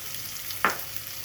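Cumin, turmeric, coriander and chili powders are added to hot oil with fried ginger and green chili paste. A faint, steady sizzle is broken by one brief scrape of stirring midway, with no talk.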